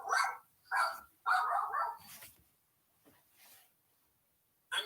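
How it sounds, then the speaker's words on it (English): A pet dog barks several times at home during an online committee meeting, sharp close barks in quick bursts followed by softer whimpering and then quiet, with one last bark at the end. "I'm sorry, that's my dog."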